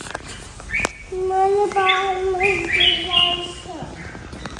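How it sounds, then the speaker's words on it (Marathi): Clear, tonal bird calls ring out one after another over a quiet outdoor background, fairly close and bright. "पक्ष्यांचा किती सुंदर आवाज होतोय हे बघा"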